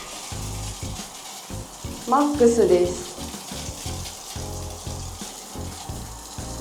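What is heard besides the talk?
hotel shower running after turning the handle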